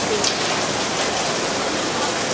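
A dense, steady hiss of hail and rain pelting a surface nearby during a hailstorm in Canberra, continuous with no pauses.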